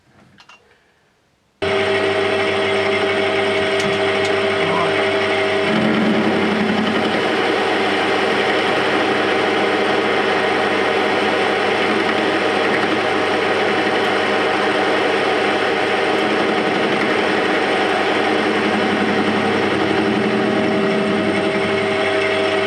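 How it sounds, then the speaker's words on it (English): A metal lathe turns down a MIG welder drive roller built up with added weld. It starts abruptly after a brief quiet moment, then holds a loud, steady whining machine drone with a constant tone and no talking. "Just turning this down now to the final size."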